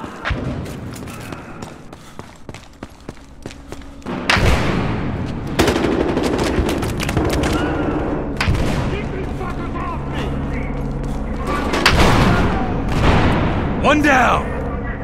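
Heavy video game gunfire in Battlefield Hardline: sustained automatic bursts, booming impacts and thuds fill the clip at close range, with shouted voices over the battle.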